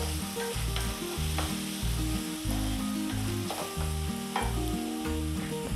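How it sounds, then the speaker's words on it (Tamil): Tomatoes and onions sauté in a pan for pav bhaji, a steady close sizzle broken by frequent scraping and stirring clatters, with no talk. "தக்காளி வெங்காயம் நல்லா வதங்கிடுச்சு."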